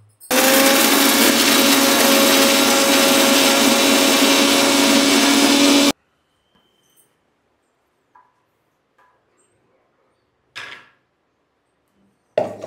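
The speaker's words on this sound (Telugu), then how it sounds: "ఇప్పుడు దీన్ని ఫస్ట్ మిక్సీ పట్టుకోవాలి." A kitchen mixer grinder grinding cumin and salt for a spicy chutney runs loud and steady for about six seconds, then stops abruptly, leaving a few faint knocks and clatters.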